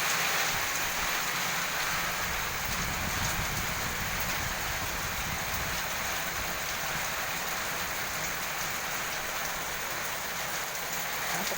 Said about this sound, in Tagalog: Pasok na po tayo at malakas ang ulan talaga